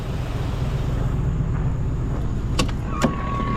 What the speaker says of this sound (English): But listen to the engine. Sounds better than my car.